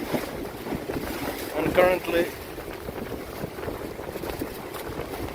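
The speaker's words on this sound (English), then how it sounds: "The wind picked up like 30 minutes ago," Wind blows steadily across the microphone on an Argie 15 sailing dinghy cruising the Finnish coast between Kokkola and Vaasa, a continuous rushing hiss beneath someone talking nearby.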